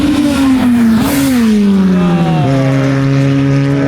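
A V1 class race car exits the last corner at Clark Speedway, its engine a loud, nasal howl that climbs, dips at a gear change, then settles into a steady drone as it passes close by.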